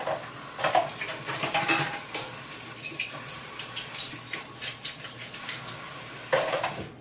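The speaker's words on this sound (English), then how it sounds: "I usually pick up a few at a time. Just rinse them all off like this." Dishes and knives are rinsed in a kitchen sink, with running water under repeated clinks and clatters of cutlery and plates, close by and with no speech.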